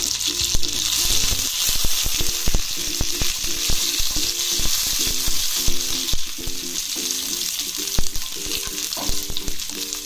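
Curry leaves frying in hot oil for a dosa chutney give off a steady, close sizzle with crackling pops, along with repeated clinks and scrapes of a stirring utensil against the pan.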